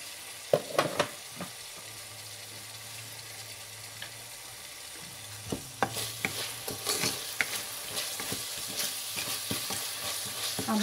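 Potatoes and eggplant with turmeric stir-fry in a pan, with steady sizzling and scattered sharp clicks and scrapes of stirring, quieter at first and then busier and louder, with no talking.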